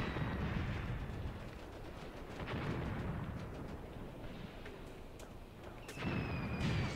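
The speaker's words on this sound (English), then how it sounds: "here comes an anti-tank gun round that missed" An anti-tank gun round fired in a Graviteam Tactics battle, a heavy boom with a rumbling tail against steady distant battlefield noise, followed by a thin whistling whine near the end.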